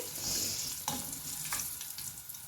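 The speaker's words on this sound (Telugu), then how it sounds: "పచ్చిమిరపకాయలు కూడా ఈ వేడికి వేగుతాయి, అవి సరిపోతాయి. ఇప్పుడు వామది మంచిగా వేగి మంచి వాసన అయితే వస్తుంది." Green chillies and ajwain seeds sizzle steadily in hot oil in a pan, with close, continuous frying hiss and a few soft clinks of stirring.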